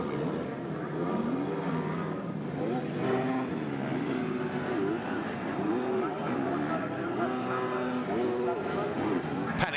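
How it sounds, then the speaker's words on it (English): Motocross bike engines buzz and rev through a women's MXGP race in Germany, rising and falling in pitch from a distance as a commentator talks over the continuous engine noise. "Panic rev there for the number 8."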